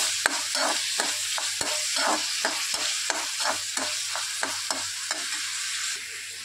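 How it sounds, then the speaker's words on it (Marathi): Finely chopped, seeded tomato fries in a pan for egg bhurji, stirred in quick, regular scraping strokes over a constant sizzle. The strokes are close and fairly loud, with no talking. "यामध्ये एक बारीक चिरलेला टोमॅटो टाकून घेते, ज्याची मी बी काढून घेतलेलं आहे, धुवून घेतलेलं आहे आणि बारीक चिरलेला आहे"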